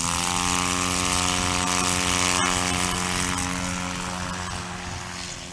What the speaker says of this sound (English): You hear the RPMs on the engine start to come back down.